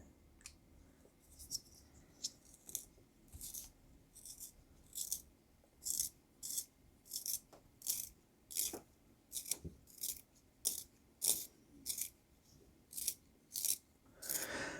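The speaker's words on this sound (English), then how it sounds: "Let's make sure I'm sharpening the correct end." Begoody 6B pencil turned in an Apsara long point sharpener, giving a steady series of about twenty short, crisp scraping bursts at an even rhythm, close and clear with no talking.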